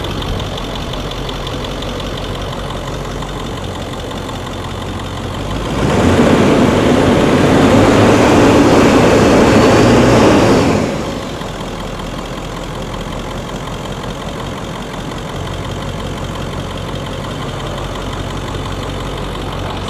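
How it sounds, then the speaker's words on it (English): A car engine revved for several seconds, rising from a steady idle to a loud sustained roar, then dropping back to idle, with no talk over it. "Rev it up a little bit."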